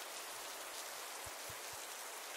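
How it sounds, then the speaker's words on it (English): Rain drumming on a car roof, a dense steady hiss of falling drops with a few soft low thumps, continuous and even, with no voices. "The rhythmic thumping of raindrops on the roof created an eerie symphony"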